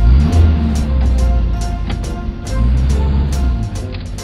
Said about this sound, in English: Rigid dump truck.